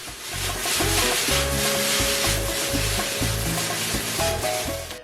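Beef, red onions and peppers stir-frying in a hot pan for Peruvian lomo saltado with noodles, a steady loud sizzle broken by rhythmic scraping and tossing strokes, with no one talking.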